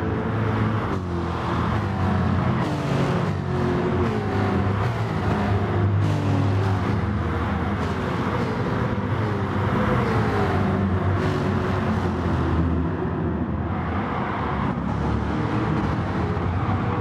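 Racing cars, a Lexus among them, roar through a video game supercar race: a continuous loud engine drone with rising and falling revs and repeated gear-change surges, no voices.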